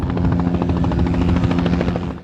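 A helicopter flies over a flood-ravaged coastal town cut off by washed-out roads, its rotor thudding in a steady rapid chop with a continuous engine drone, loud and close throughout before easing slightly at the end.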